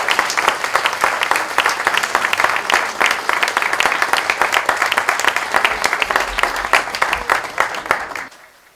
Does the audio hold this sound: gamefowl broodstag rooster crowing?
no